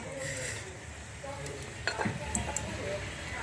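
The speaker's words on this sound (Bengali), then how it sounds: "এখন এতে আমি বন্ধুরা তিনটা শুকনো মরিচ আমি ছিঁড়ে দিয়ে দিয়েছি অল্প একটু ভেজে নেব শুকনো মরিচটাকে" Torn dried red chillies frying in oil in a wok, a soft sizzle under scattered clinks and stirring clatters of a utensil against the pan, fairly quiet and close.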